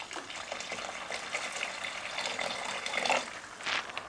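Water poured into a pot of meat kabsa with rice as it cooks, a steady, moderately loud gushing splash lasting throughout with a brief surge near the end.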